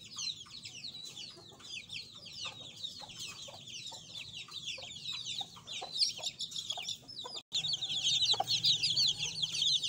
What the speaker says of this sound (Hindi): ये हमारे छोटे चिक्स हैं।